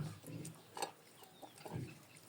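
A rooster gives a few soft, short clucks, quiet and somewhat close, with faint background noise.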